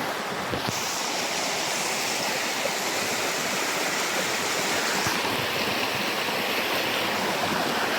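Water rushing steadily from the main water source for a whole street after a blockage has been cleared, a continuous broad wash of flowing water heard close up with no talk over it.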